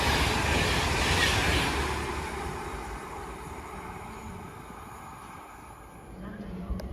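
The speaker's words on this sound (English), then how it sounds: "passing through now is going to Avanti West Coast service to Glasgow Central from London Euston" An Avanti West Coast Class 390 train runs through Watford Junction, a loud rushing roar at first that eases into a softer, sustained rumble with faint rail clatter, and a voice talks over it.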